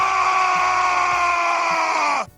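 Orks in the video game Warhammer 40K: Space Marine scream, a loud, sustained, rough-throated roar held for about two seconds before cutting off abruptly, with faint thuds of combat beneath it.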